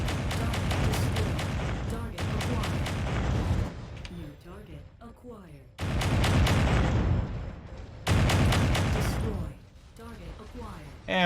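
Mech weapons firing in MechWarrior 5: Mercenaries, heavy booming bursts of gunfire in loud repeated volleys separated by quieter gaps, with someone talking over the action.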